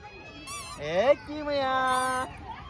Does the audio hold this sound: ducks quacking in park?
yes